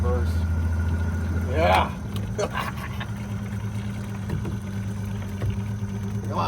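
A rebuilt DIY boat's engine is throttled in reverse, its low motor hum rising briefly, then settling back to a steady idle under a voice and splashing water.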